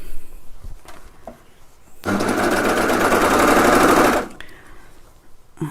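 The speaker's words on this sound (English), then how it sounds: "So wrong sides together on those first two pieces and we'll stitch those together." An overlocker serger stitches two pieces of fabric together for a cushion, a loud, rapid, continuous whirring run of about two seconds, set between quiet handling clicks.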